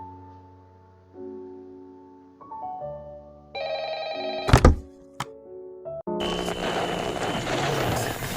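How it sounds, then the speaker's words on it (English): An office telephone rings inside the iPhone game 1112, heard as a layered synthetic tone that rises in steps and is broken by a sharp thunk and clicks, ending in a dense, noisy wash. "he hears the phone ringing from within his office"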